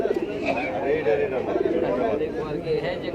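Low, throaty pigeon coos repeat every second or so at a crowded Bangladeshi pigeon market where paired birds are being sold, close by and under constant background talk and crowd noise.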